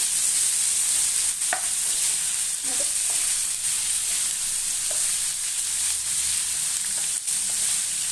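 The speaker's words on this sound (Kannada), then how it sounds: "ಇದು ಒಂದೇ ಒಂದು ನಿಮಿಷ ಹಾಕೊಂಡು ಫ್ರೈ ಮಾಡಿಕೊಂಡು" Masala for a South Indian style chicken gravy sizzles steadily in a pan, with occasional spoon scrapes and clinks of stirring over the constant frying hiss; no talking.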